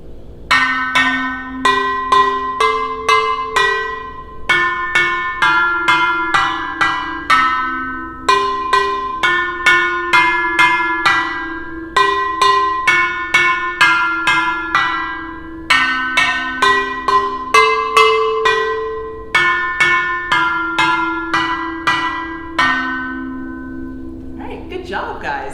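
Piphophone pipes struck in quick rhythmic runs of bright, bell-like pitched notes, repeating melodic phrases with short decays, loud and close, continuing steadily with no talk.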